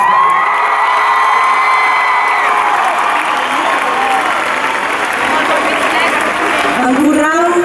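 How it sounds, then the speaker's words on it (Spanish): Concert audience applauding and cheering for the band at an Operación Triunfo show in Pineda de Mar, a loud sustained wash of clapping with whoops and shouts that carries on throughout. "Darles el mayor aplauso."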